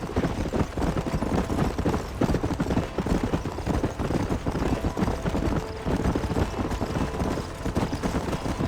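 Horse hooves gallop on a trail in Red Dead Redemption, a fast, rhythmic run of thudding clip-clops that stays constant and close throughout.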